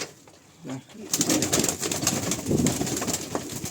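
Pigeons coo softly in a loft with faint flutters and shuffling, fairly close and low in level.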